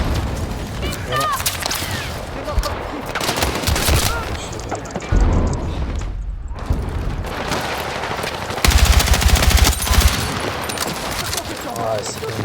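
Rapid machine-gun bursts in the shooter game Battlefield 6, loud sustained fusillades with short pauses between volleys, heavy low thumps in places, and someone talking over the gunfire.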